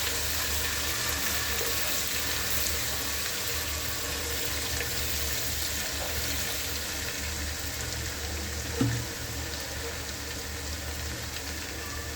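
Onions sizzle steadily in oil in a pan, a constant frying crackle with a single brief clink partway through.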